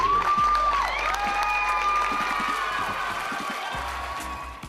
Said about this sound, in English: Give yourself a big round of applause for what you did.